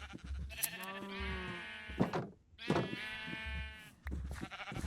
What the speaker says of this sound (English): we're going to dye some of these sheep. And we're going to shear them